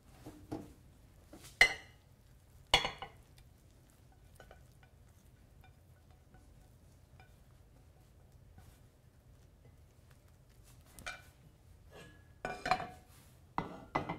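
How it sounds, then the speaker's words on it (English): Scrambled eggs are moved from a hot pan onto a plate, with a few sharp metal scrapes and clinks of utensil against pan and plate separated by quiet stretches. "I'm going to get them out of the pan onto the plate as they're going to continue to cook."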